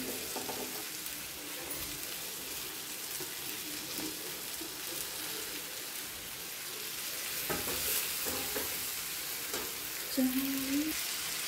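Spiced cauliflower sabzi made with chilli powder, salt and turmeric being stirred in a pan, a steady soft sizzle with light scraping and stirring throughout, growing slightly busier near the end with a brief clink.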